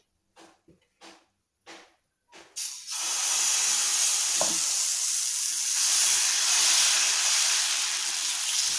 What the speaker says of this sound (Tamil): தோசையை ஊற்றுவோம்.